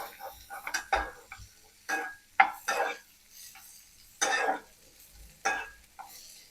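Vegetables for penne pasta frying in a pan, with intermittent scraping and stirring clatters against the pan over a quiet sizzle, close and in separate bursts.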